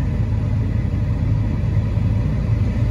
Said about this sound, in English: Healthy engine.